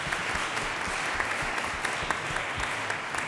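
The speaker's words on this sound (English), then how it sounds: "So please welcome all of our speakers with the applause." Steady applause from an audience at an ecumenical church conference on peacemaking, a dense, even wash of clapping held at a constant level throughout.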